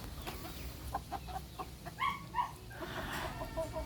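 Brazilian Rapido hen clucking in a backyard, a few short, soft calls scattered over low background noise with no talking.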